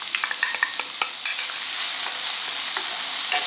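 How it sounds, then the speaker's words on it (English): Minced small onion hitting about a tablespoon of hot oil in a pan gives a steady close sizzle with crackling pops, loudest in the first second and easing into an even hiss. "I'm going to heat about a tablespoon of oil in my pan, and I'm going to add a small onion which I minced."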